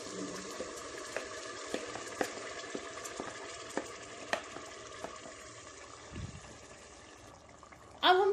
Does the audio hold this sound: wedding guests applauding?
no